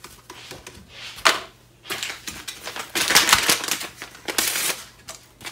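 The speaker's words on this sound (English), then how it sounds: "So I'm just going to go ahead and tear these open. We're going to sprinkle these right into the pan." Paper seasoning packets are torn open and their contents sprinkled into a pan of meat, giving several close, crisp rustling and tearing bursts separated by short pauses.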